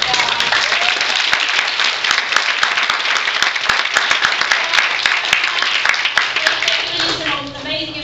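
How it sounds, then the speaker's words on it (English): Loud, sustained applause from a seminar audience for departing panelists at a women's leadership event, dense clapping close by that thins near the end as a voice begins speaking. "let's give them a big round of applause"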